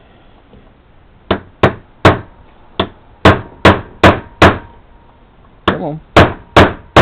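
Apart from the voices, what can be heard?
hammer tapping a part into a Lee bullet mold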